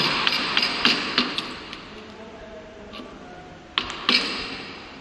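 A wooden mallet strikes a chisel cutting a mortise into a wooden workpiece for a carpentry joint, giving a string of sharp taps at an uneven pace, then a pause before two more hard knocks.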